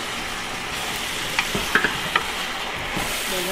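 Tomato sauce being stirred in a cooking pot: continuous close wet swishing with a few sharp clinks of the utensil against the pot and no talking.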